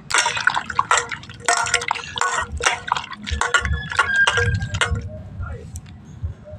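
Cut potatoes washed by hand in water: close, wet splashing and squishing in quick repeated bursts, fading to quieter drips and sloshes toward the end.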